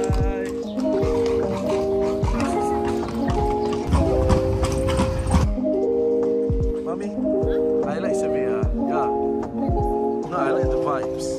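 Hooves of a horse clip-clop on a street in Seville, Spain, in a steady walking rhythm that continues throughout. The hoofbeats sit under prominent music.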